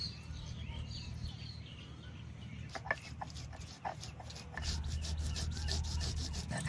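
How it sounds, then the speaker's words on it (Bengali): Cumin and ginger ground together on a kitchen grinding stone: a rhythmic, gritty rubbing of stone on stone, close and steady, with a few knocks and a low background hum. "প্রথমে বেটে নেবো জিরে আর আদা একসঙ্গে।"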